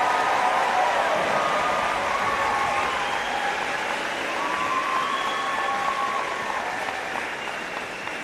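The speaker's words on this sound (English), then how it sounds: "Let's give them a big round of applause." Applause for a graduating high school class at a graduation ceremony, a broad steady rush of many people clapping, with cheering and a few voices on top, fading slightly toward the end.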